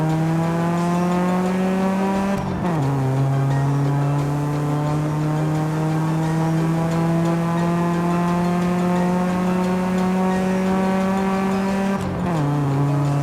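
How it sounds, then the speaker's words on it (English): A car engine in Forza Horizon 5 drones steadily at high revs with layered harmonic exhaust and intake tones, dipping briefly twice as if shifting gears, loud and continuous. "the exhaust is at a different pitch than the intake"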